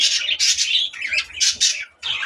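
Lovebirds chirp and squawk in rapid bursts, with a male courting a female; several close, loud calls come with short pauses between them.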